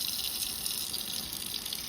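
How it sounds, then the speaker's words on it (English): A tap runs lukewarm water into a sink in a steady, continuous gush that stays close and even from start to finish, with no voices. "what I want to do is get some lukewarm water."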